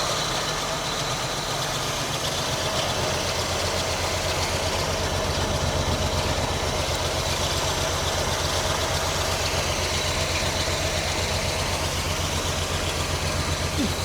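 Engine of a 1963 pink Cadillac limousine idling after long years in a junkyard, a steady low rumble with faint rhythmic knocking that runs unbroken throughout, with occasional talk faintly over it.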